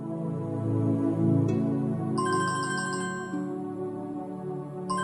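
A telephone ringtone in a Pakistani drama scene, an electronic melodic ring repeating steadily and clearly over a bed of dramatic background music.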